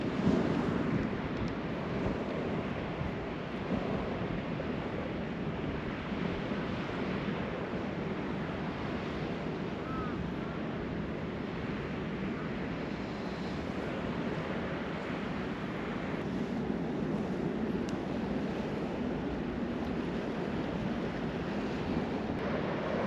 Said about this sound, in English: Nothing but the waves.